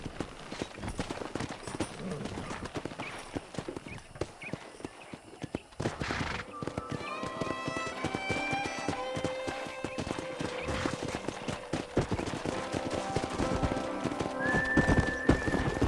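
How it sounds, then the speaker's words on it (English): Wild horses in the Red Dead Redemption video game, with rapid hoof clip-clop and several drawn-out whinnies and neighs, fairly close, over game ambience and a voice. "That ranch hand said there's a pack of wild horses nearby."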